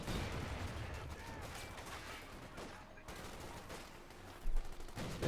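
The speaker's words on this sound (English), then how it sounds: "Bit of shooting there." Company of Heroes 2 battle gunfire, a steady rattle of rifle and machine-gun shots with occasional heavier thumps, fairly continuous and mid-distance, under a voice talking.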